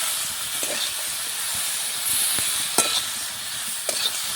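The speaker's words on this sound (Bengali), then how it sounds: "এবার পুঁই শাকটা দিয়ে দিচ্ছি। ভালো করে নেড়ে চেড়ে নিচ্ছি।" Malabar spinach going into a hot pan and being stirred gives a steady steamy hiss with a few faint clicks of the spatula, close and alone.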